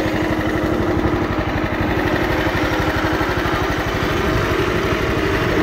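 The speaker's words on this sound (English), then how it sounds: "I think the hydrostatic makes more noise at idle than the engine." A Cub Cadet 1320 hydrostatic riding lawnmower idles steadily up close, with a constant low mechanical drone and a whine from the hydrostatic drive, and no talk.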